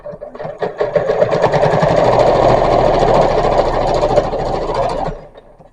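A sewing machine stitches decorative trim onto the edge of a pillow sham, starting with a few stuttering stitches, then running loud and steady for about four seconds before stopping.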